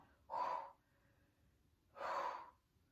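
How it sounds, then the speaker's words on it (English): Two separate breaths pushed out through the mouth during a core workout, each a close, breathy whoosh about half a second long with quiet pauses around them. "You might breathe out through your mouth."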